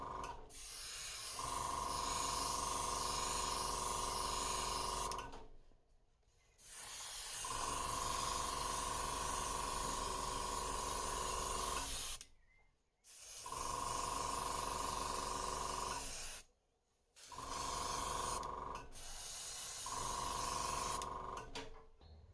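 Bursts of airbrushed pearlized gold and silver paint hissing onto a trout lure wrapped in fine mesh, four or five sustained sprays separated by short silent pauses, steady and close, with no talk.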